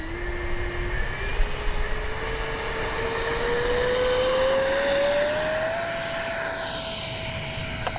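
A Freewing 70mm F9F-5 Panther RC electric ducted-fan jet takes off, its whining fan rising steadily in pitch and loudness as it throttles up and climbs away, a constant rushing roar beneath.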